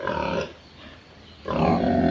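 Pigs in a large rural piggery give loud grunting, roaring squeals in two bursts separated by a short quieter gap, close by.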